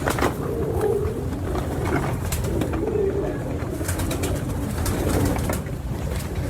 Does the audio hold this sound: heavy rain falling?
no